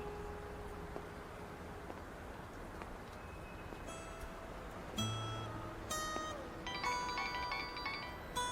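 A phone ringtone sounds faintly in a quiet indoor scene, with repeated melodic electronic tones starting partway through.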